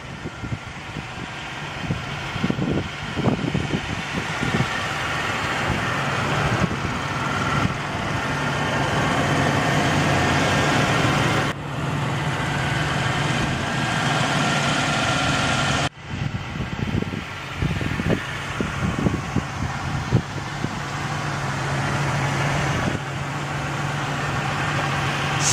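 A 1998 Pontiac Grand Prix GT idles steadily with a low exhaust rumble, engine sound sustained and fairly loud with small fluctuations and brief breaks, no talking.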